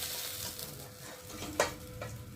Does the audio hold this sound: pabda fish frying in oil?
yes